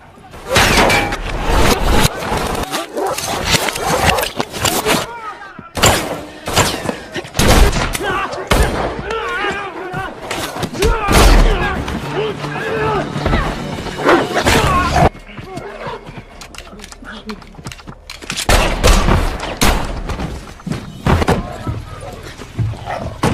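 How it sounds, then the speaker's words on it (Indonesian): Gunfire from a movie gunfight rings out in sharp, loud bursts and scattered single shots, mixed with shouting voices and other action noise, with a quieter stretch midway before more heavy shooting. "mereka berdua pun terlibat baku tembak dengan anak buah si pria"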